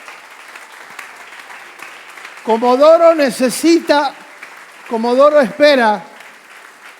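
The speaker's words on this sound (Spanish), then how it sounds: "si le vas a aplaudir para el Señor," A church congregation applauds steadily in the background while a preacher's loud, impassioned voice rises over it in two bursts.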